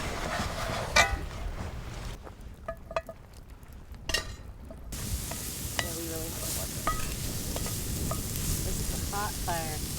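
Food sautés in bacon grease and olive oil in a pan over a hot fire, a soft steady sizzle broken by clinks and stirring scrapes, with a brief quieter stretch in the middle.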